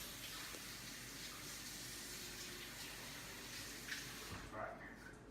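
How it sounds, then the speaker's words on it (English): Tap water runs steadily over a cabbage masher being rinsed in a kitchen sink while sauerkraut is being made, a continuous close-up splashing gush with no pauses. "All right, we'll rinse my masher off."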